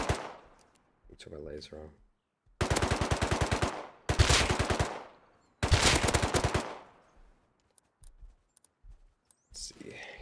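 An MP5 submachine gun in the survival game Rust fires three loud, close, sustained bursts of rapid shots separated by short pauses, with quieter clicks and handling sounds in between and someone talking briefly.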